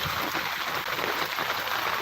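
Heavy monsoon rain in the Konkan region roars in a thick, unbroken hiss, loud and close, with no voices.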